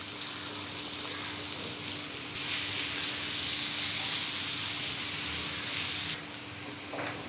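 Finely chopped medium onion frying in hot oil on an iron tawa, a steady close hiss and crackle that surges louder for several seconds mid-way before settling back to a gentler sizzle.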